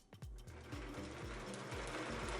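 A sewing machine stitches binding onto the inside of quilted jacket cuffs made from an upcycled comforter, running in a steady rhythmic stitch close by, fairly quiet with even repeating thumps.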